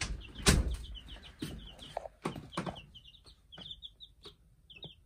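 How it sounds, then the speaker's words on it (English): Small chicks clucking and peeping inside an 8x12 camper on a chilly day, a run of short repeated calls, close by, with a few louder thumps and rustles near the start. "Well, let's go check on the chickens here."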